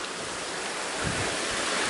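A mountain stream flows beside a Smoky Mountains backpacking trail, giving a steady, close, full rush of water with no voices.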